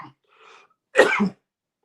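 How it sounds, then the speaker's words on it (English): A single harsh cough bursts out close by after a couple of faint breathy sounds, rough and throaty, then silence. "This cough is killing me."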